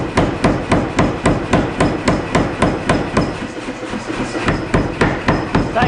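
Steady, evenly spaced hammer blows ring out one after another as a wootz steel integral chef's knife is forged, loud and close with a sharp metallic strike on each hit and no talking.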